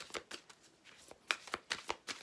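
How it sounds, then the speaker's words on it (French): Tarot cards are shuffled and drawn by hand, a quick series of soft riffling snaps and flicks, close and quiet, with no talking. "Ah, j'ai tiré trop de cartes. On va recommencer."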